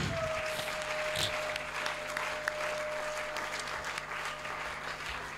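A church congregation at a prayer service claps and cheers in praise of Jesus, a sustained burst of crowd applause with a few scattered voices mixed in.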